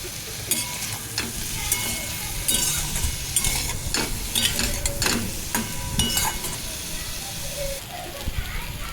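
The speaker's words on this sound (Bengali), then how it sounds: "ভালো করে একটু কষিয়ে নিচ্ছি" Bottle gourd vegetables being sautéed with salt and turmeric in a pan, a steady close sizzle broken by repeated scraping and stirring strokes throughout.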